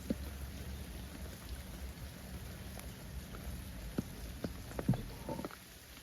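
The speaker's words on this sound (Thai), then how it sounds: "ฝนก็ตกด้วยนะทุกคน" Rain patters steadily in an outdoor setting, a faint, even wash with scattered louder drops striking nearby surfaces, no talking.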